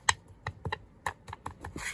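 Tarot cards being shuffled by hand, a run of sharp close clicks and soft slaps at an uneven rhythm, with short gaps between them.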